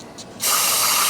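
Liquid bursts out under pressure while work is done on a long-parked, seized Volvo P1800 field find, a sudden loud hissing spray that starts after a quiet moment and continues steadily.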